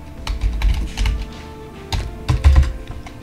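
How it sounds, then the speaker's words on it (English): Username being typed on a computer keyboard during a password recovery, heard as irregular bursts of close key clicks with short pauses between them, with no talking. "So now you need to type your username"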